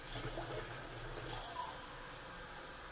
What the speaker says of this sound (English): take some cold water and rinse out the bits of it